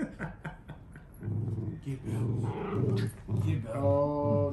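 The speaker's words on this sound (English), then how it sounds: "she likes to growl when playing tag of war" A dog growls in rough, rumbling bursts while playing tug of war, close and fairly loud, ending in a higher whine, with people talking over parts of it.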